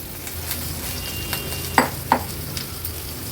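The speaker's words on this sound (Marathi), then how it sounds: "आता ह्या बटाट्याच्या फोडी घालूया आपण" Potato slices sizzle in hot tempering oil in a pan on the stove: a steady, even frying hiss with a couple of sharp stirring clinks near the middle, close and without talk.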